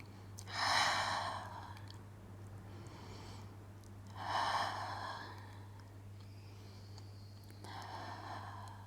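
Deep breathing during a beginner Pilates exercise: three slow, airy exhalations roughly three and a half seconds apart, fairly close, over a steady low electrical hum with no speech.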